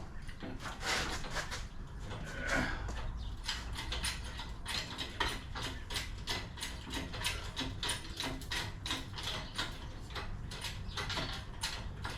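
Mechanical jack lifting a Dodge Dakota frame mounted on a Titan 4500 rotisserie, heard as a steady run of ratcheting, clicking pumps with a busy grinding texture throughout, close and fairly loud with no talk.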